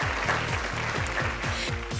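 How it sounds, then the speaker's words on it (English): Applause from the audience at the Femina Miss Stylista West 2019 pageant, a dense continuous wash of clapping mixed with a pulsing electronic bass beat from the event music. "A big round of applause for all of them,"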